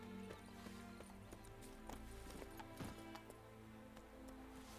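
Hooves of Geralt's horse Roach clip-clopping at a steady galloping rhythm in The Witcher 3: Hearts of Stone, fairly faint under a bed of ambient game music.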